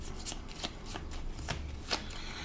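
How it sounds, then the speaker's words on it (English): A deck of game cards is shuffled up close, with a handful of crisp riffling bursts and soft slaps spaced irregularly over a quiet background. "Give them a little shuffle,"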